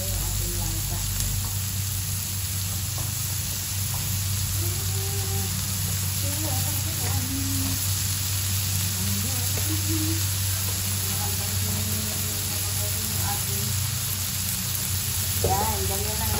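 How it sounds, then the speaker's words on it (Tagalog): Labahita fish sautéing in a pan for ginataang langka, giving a steady broadband sizzle throughout, with faint stirring and clinks and a low background hum. "igisa nyo lang yung ating isda"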